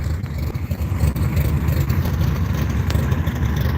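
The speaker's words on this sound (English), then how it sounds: "Some solid burnouts." Drag race car doing a burnout at the Halloween Classic drag event, a loud, rough low engine roar with a gritty, continuous rumble and small surges near the start, close by and alone.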